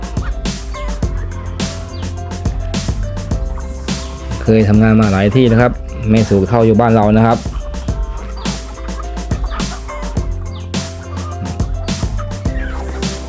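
Chickens on a Thai home farm in the morning, with a loud gobbling, turkey-like fowl call standing out in the middle under steady male speech throughout.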